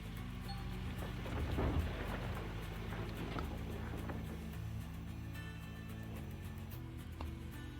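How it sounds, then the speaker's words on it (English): Rain with thunder in the video game Gold Rush: a steady, loud wash of rainfall with a low rumbling swell about a second and a half in, continuing alone throughout. "look at that, it's gonna rain"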